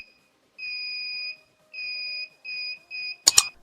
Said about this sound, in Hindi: बजर का साउंड भी सुनाई देता है